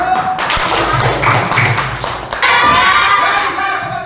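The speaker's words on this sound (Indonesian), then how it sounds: "tepuk tangan dulu" Children in a classroom clap their hands in a burst of quick, close applause with some thumps, and young voices can be heard among it.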